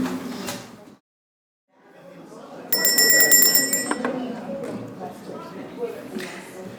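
A hand bell rings in a lecture hall to call the audience back to their seats, a bright metallic jangle of about a second, set among the murmur of a crowd and nearby talking.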